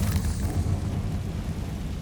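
A Confringo spell explodes in the video game Hogwarts Legacy, a deep, loud, rumbling blast that roars on steadily for about two seconds without talk.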